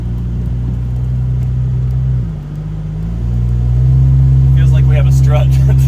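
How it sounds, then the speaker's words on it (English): Old six-seat project car driving slowly through a neighborhood with a loud exhaust leak, a steady low rumbling drone that dips briefly as it shifts, then swells back louder and holds. "That exhaust leak is horrendous."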